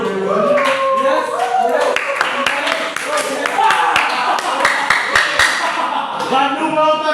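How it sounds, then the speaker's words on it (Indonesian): Students clap together in a classroom, a scatter of sharp hand claps mixed with voices and chatter that run over the sound throughout. "Oke, tepuk tangan dulu."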